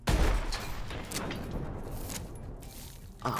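Blunderbuss shotgun blasts in the video game Advanced Warfare, a heavy booming shot opening the clip with a sustained rumbling tail and another sharp blast near the end.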